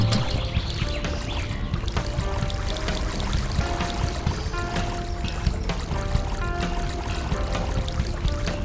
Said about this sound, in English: a river is a body of water that flows downhill, and it's always moving